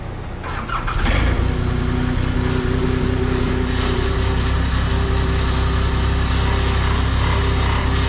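A skid steer engine on a dairy farm starts about a second in, then runs at a loud, close, steady idle with a constant low hum and no talking.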